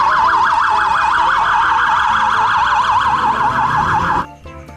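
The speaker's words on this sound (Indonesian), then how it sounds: "Mobil polisi lalu lintas." Loud warbling electronic siren of a toy traffic police car wailing rapidly and continuously, then cutting off abruptly near the end.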